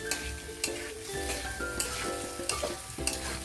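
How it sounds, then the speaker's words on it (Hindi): Jackfruit and potato pieces stir-fried with masala in a pan, a steady loud sizzle broken by repeated scraping stirs of the spoon at an irregular rhythm, close and continuous with no talk. "अभी इसे मसाला के साथ में अच्छी तरह भून लेते हैं आधा मिनट के लिए।"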